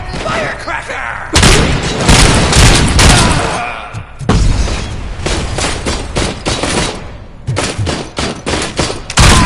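Loud firecracker blasts and gunfire-like bursts from the action game Robocop Rogue City, arriving in dense repeated volleys with short gaps between them. A gruff voice shouts over the barrage.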